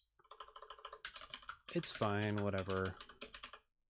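Keyboard typing clatters in quick bursts on a computer during a live coding stream, mixed with a short stretch of singing-like voice and people talking over it.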